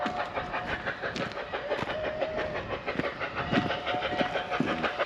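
A train on the Snowdon mountain railway rumbles past with rhythmic clicking and clattering from its carriages, steady and moderately near throughout, with a faint whistle-like tone and no talk.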